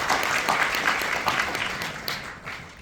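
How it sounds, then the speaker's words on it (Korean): An audience claps at a forestry outlook conference in a Seoul hall, welcoming a presenter onto the stage with a moderate, steady wash of applause that thins out toward the end. "박수로 맞이해 주시기 바랍니다."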